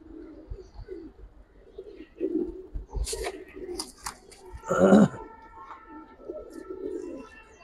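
Soft, low coos of Giribaz pigeons repeat on and off, with one louder, fuller burst of cooing midway and faint background chatter.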